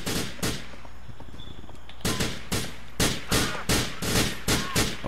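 Gunshots in the video game GTA 4, a burst of sharp loud reports near the start, then after a pause a rapid series of evenly spaced shots firing close and loud, with no talk.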